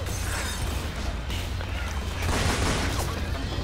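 Dense, continuous automatic gunfire from fire bullets in Left 4 Dead 2, with rapid bursts and pops layered into a loud, busy wash of game-battle noise that swells toward the end.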